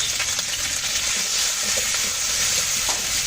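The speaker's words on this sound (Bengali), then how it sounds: "সুন্দর করে একদম লালচে করে ভেজে নেব" Pointed gourd (potol) pieces with salt and turmeric frying in oil in a pan, a steady, dense sizzle that stays loud and close throughout, with faint stirring ticks and no talking.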